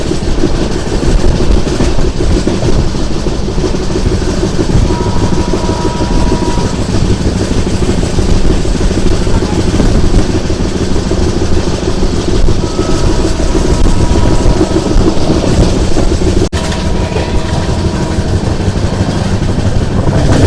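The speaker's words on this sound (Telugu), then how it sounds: "సో మన ట్రైన్ కూడా చాలా స్లోగా అయితే వెళ్తుంది" An LHB-coach superfast express from Kachiguda to Mysuru rolls slowly through a railway station, with a steady loud rumble, soft wheel clatter and faint squeals heard from inside the train. No one speaks.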